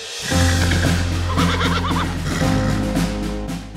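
A Sumbanese horse being trained for pasola lets out a loud, close whinny with a wavering pitch, holding for several seconds with no voices around it.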